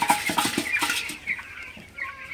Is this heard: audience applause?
no